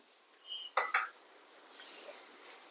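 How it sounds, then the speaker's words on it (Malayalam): Grapes tipped from a spoon into a pan while making a fruit dessert, giving a few close clinks and light knocks of metal on the pan, then soft faint scraping. "നമ്മൾ എടുത്ത് വെച്ചിരിക്കുന്ന മുന്തിരിങ്ങ ഇതിലേക്ക് ചേർക്കാം"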